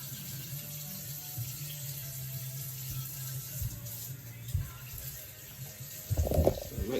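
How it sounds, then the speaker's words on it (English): A kitchen tap runs steadily while hands are washed after handling raw meat, with a soft continuous rush and a brief splashing burst near the end. "So now go and wash your hands straight away, Days, because we've both touched raw meat."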